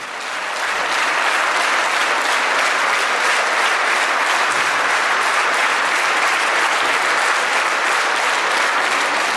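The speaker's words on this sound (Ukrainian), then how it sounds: "Відомі музичні твори у виконанні симфонічного оркестру викликали шквал оплесків" A concert hall audience at the Kharkiv Philharmonic bursts into loud, sustained applause after a symphony orchestra performance, a dense, steady roar of clapping that swells quickly and holds for several seconds.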